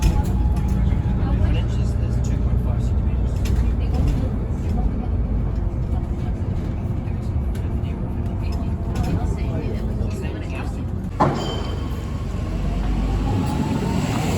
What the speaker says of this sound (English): this is my bus, just coming towards us now, the 34